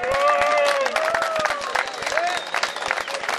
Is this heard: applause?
yes